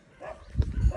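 A dog near a jetty at a coastal fishing spot lets out a couple of short, fairly close barks or yips over quiet outdoor background.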